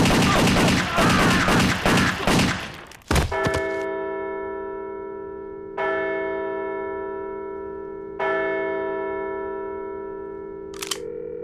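Gunshots in an adult cartoon: a burst of rapid shots at the start, then several loud single shots spaced a few seconds apart, each leaving a long ringing tail.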